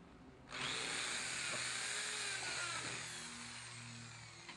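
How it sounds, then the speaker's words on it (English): A power drill whines steadily as it bores slowly into plexiglass, starting abruptly and continuing for several seconds close up, with a bright grinding hiss. "When drilling plexiglass, go slow, allowing your drill bit to do the work."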